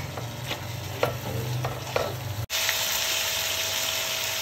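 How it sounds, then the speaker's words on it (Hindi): Yogurt fries with spice masala in a pot for Mughlai beef pulao, a low bubbling simmer with spoon scrapes and knocks, then a sudden cut to a louder, steady wash of sizzling hiss. "एक दो मिनट के लिए ये दही को इस मसाले के साथ अच्छी तरह भून लेंगे"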